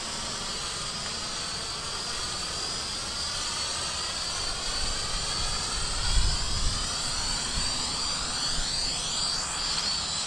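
A Hubsan H502E quadcopter drone descends slowly to land outdoors, its propellers giving a continuous high buzzing whine with gently shifting pitch, steady and fairly close throughout.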